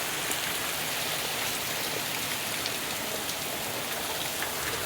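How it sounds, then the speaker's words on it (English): Heavy rain pours down during a thunderstorm as a dense, steady, close hiss of drops and runoff, unbroken throughout. "it is pissing down rain."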